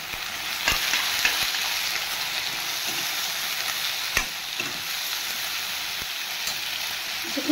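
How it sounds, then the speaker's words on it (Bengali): Kajli fish seasoned with salt and turmeric sizzles steadily in hot oil, a dense continuous frying hiss with a few sharp pops and clinks of stirring, no voices. "কিছুক্ষণ ভেজে নেব আগে"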